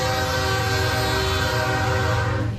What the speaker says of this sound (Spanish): Es el sonido de la bestia. Así conocen los migrantes al sistema ferroviario mexicano.